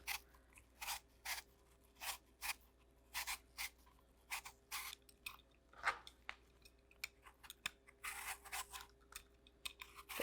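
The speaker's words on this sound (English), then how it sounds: "Get most of the peel off the apple" A Granny Smith apple is peeled with quick repeated scraping strokes, a steady rhythm of short crisp rasps, close and quiet with no talk.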